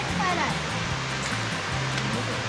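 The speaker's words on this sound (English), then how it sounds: "Looking at the waterfall." Steady, broadband roar of a waterfall on a hike in Karijini, Australia, loud and constant, with people talking over it.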